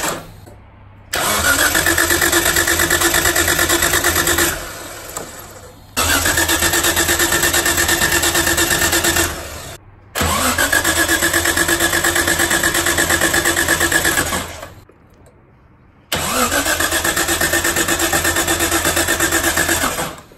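A Nissan Cefiro RB20 engine, spark plugs removed for a compression test, cranks over on the starter in four long, loud bursts, each a steady whirring drone with pauses between.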